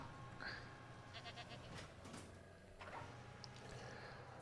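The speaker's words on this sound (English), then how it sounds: "Let's go see if one of them eats the goat." A goat bleats in Jurassic World Evolution 2, short faint calls rising over a steady low hum of park ambience, with no voices.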